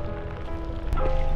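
Rain falls steadily on a rainy ride toward Bình Dương, a dense, close wash of patter that carries on without pause and grows slightly louder toward the end.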